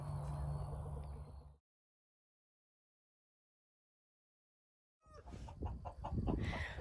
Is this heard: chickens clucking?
yes